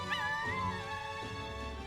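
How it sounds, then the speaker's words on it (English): A puppy in the video game Metaphor ReFantazio lets out a short, high, wavering whimper that rises and then slides down, heard alone over a faint background hum. "You got a puppy."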